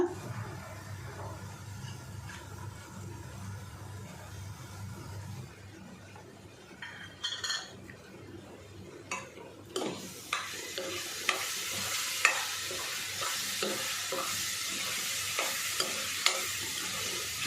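A pan of food being sautéed and stirred for a Konkan-style mango pulp dish, a low sizzle at first, then sharper clinks and scrapes of a spoon against the pan repeating through the second half.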